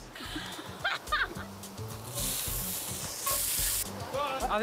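Chopped onion sizzles and crackles in a hot pan, a steady frying hiss with stirring scrapes and music playing softly underneath.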